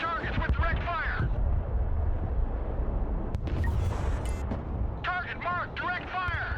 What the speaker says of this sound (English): Artillery on the move. Engaging targets with direct fire.